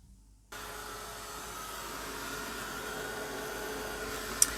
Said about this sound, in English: I'm just going to get my heat tool and give it a quick dry off